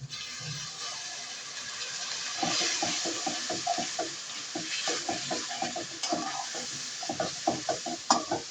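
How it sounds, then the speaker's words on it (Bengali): A splash of water goes into a hot pan of turmeric and chili powder, setting off a sizzling hiss, followed by a run of sharp, rhythmic scraping stirs close by. "এখন অল্প একটু পানি দিব যেন লেগে না যায়।"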